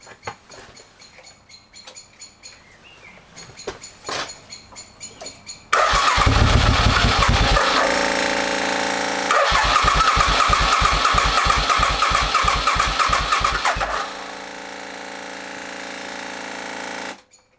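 Suzuki Intruder motorcycle being cranked in repeated starting attempts, loud close bursts of rapid starter churning with pauses between, and faint birds in the background.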